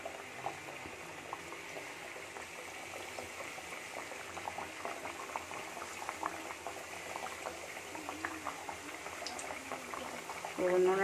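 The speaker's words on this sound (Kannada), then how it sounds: "ಸೊ ಇರಲಿ ಹಾಕ್ಬಿಡೋಣ, ಯಾಕಂದರೆ ಎಣ್ಣೆ ಕಾದಿದೆ ಅದಕ್ಕೆ." Chakli dough frying in hot oil for a festival snack, a steady close crackling sizzle with dense bubbling that runs unbroken throughout, with a slight rise in loudness near the end.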